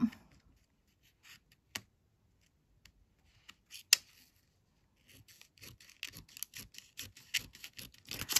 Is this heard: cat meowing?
no